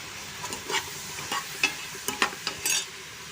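Mixed vegetables sautéed for masala brinjal rice, stirred in a pan with a series of soft scraping strokes and faint sizzling, close and quiet, no talking.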